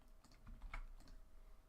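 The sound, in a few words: someone smashing on a computer keyboard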